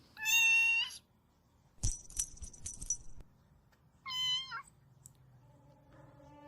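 A kitten meows in three separate close, clear calls, each with a bright rising-and-falling pitch, while a short rattle of clattering noise falls between the first two calls and low background hum runs underneath.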